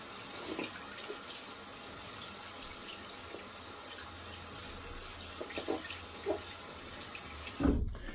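Tap water runs quietly and steadily over shaving brushes being rinsed in a sink, with a few faint splashes and a louder splash near the end.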